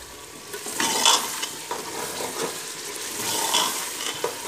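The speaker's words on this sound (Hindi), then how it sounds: "और कुछ देर हम इसको भूनेंगे।" Lobia masala sizzling in a pan as green chilli, garlic and ginger paste is stirred and sautéed, a steady close frying hiss with soft scraping stirs rising and falling, no voices.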